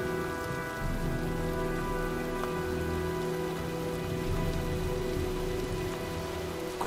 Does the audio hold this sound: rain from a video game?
yes